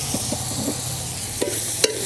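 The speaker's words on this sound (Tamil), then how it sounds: "இந்த மசாலா வந்து நல்லா எண்ணெயில் வறுபடட்டும்" Steady oily sizzling of a spice paste with tomatoes frying in oil in a pan, with a few soft scrapes of stirring and a couple of sharper clinks near the end.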